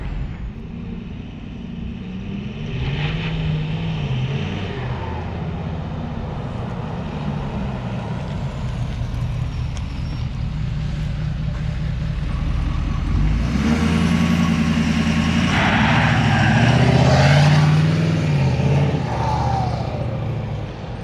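Duramax and Powerstroke pickup trucks rev steadily in a tug of war, a loud continuous diesel drone that swells louder in the second half, with no talk.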